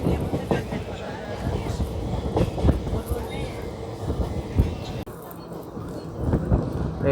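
The Simhadri Express rolls toward platform 2 at Eluru station with a continuous heavy rumble and rattling clatter of wheels on rails, steady and close, easing slightly near the end.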